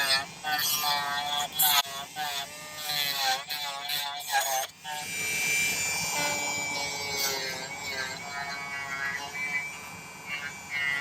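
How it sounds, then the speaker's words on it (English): A Dremel rotary tool cleans up a silver ring being made for a crazy lace agate stone, a steady high whine running through the second half after spoken talk at the start. "let's do a little Dremel cleanup on this"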